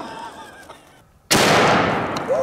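A single loud elephant rifle shot fired into a box of pine boards bursts out sharply after a short quiet pause, followed by a ringing decay of the blast.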